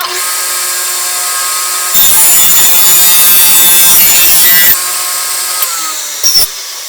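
A power saw rips through a wooden board along a marked line, a loud steady whine with the heavier cutting roar running for a few seconds in the middle before the blade spins down alone.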